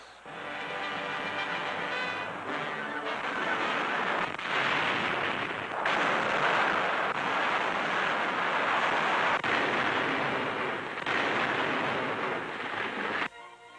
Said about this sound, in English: U.S. artillery reduces the Nazi-held naval base